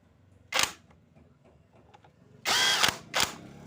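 Pneumatic impact wrench fastening the CVT nut on a Honda Beat automatic scooter, heard as one short burst followed by a longer rattling run and one more short burst, loud and close with quiet gaps between.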